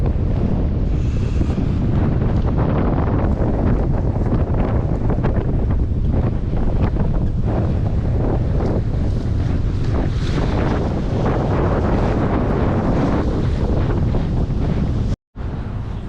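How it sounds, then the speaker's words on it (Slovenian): Strong wind buffets the microphone in a steady roar over rushing whitecapped waves on a sailing delivery of a Lagoon 43 catamaran, continuous and loud, with a sudden brief cut near the end. "Že kar lepo piha, se že beli valovi delajo, pomeni, da je že kar nekaj vetra."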